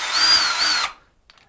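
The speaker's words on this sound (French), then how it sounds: "C'est une perceuse qui fait 42 Nm. Donc après, je vais me mettre en mode vissage." Cordless 42 Nm drill set to screwdriving mode runs at a steady whine for just under a second, then stops abruptly, leaving near silence with a faint click at the end; close and loud, no talking.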